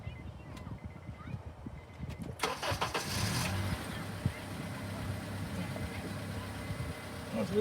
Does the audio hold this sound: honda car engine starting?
yes